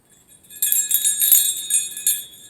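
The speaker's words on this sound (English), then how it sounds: "I shook the bell." Sleigh bell shaken a few times, bright ringing jingles with a short silence before, then several close, clear shakes that ring and fade.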